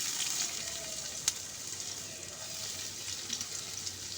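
Chopped onions fry in hot oil, a soft, even hiss of sizzling that holds steady with one faint knock partway through.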